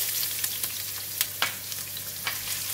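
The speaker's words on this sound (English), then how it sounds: "When oil is getting hot, I'm putting in the garlic and the ginger." Garlic and ginger frying in hot cooking oil, a loud, dense sizzle with several brief crackling bursts as the pieces spit, over a steady low hum.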